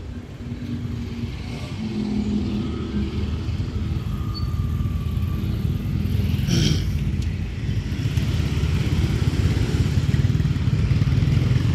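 Traffic rolls along a busy street in Kuala Lumpur, where scooters are used by street vendors. Engines hum and rev steadily, with passing vehicles and light clatter filling the scene at close range.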